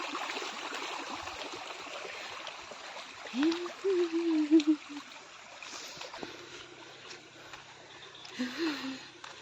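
Water runs steadily in a broad, gentle wash, with a few brief voiced sounds rising over it partway through.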